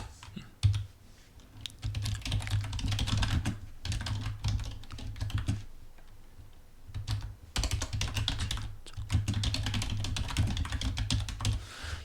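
Steady computer keyboard typing, close and moderately quiet, in bursts of rapid keystrokes broken by short pauses while an essay is written, with no voice over it.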